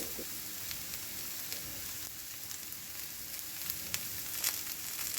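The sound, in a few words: bitter gourd slowly frying in oil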